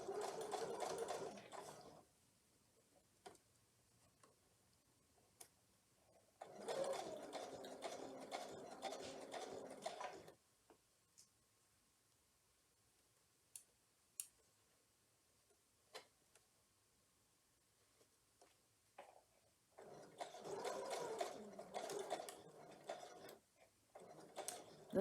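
A sewing machine stitches the curved seams of a double wedding ring quilt block in two long bursts of steady whirring, with quiet handling clicks and fabric shuffling in the pauses between runs.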